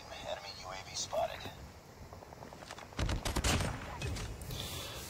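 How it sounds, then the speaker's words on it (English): Sniper rifle fire from the Outlaw in Call of Duty Mobile cracks sharply around the middle of a close-quarters match. The shot rings out amid other game sounds, and a player talks throughout. "this sniper rifle works good"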